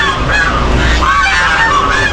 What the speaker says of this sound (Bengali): তাছাড়া এখানে বেশ কয়েকটা রাজহাঁস রয়েছে